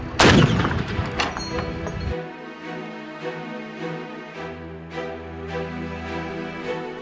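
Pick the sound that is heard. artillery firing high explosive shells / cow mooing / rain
artillery firing high explosive shells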